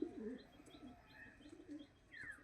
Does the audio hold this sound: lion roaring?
no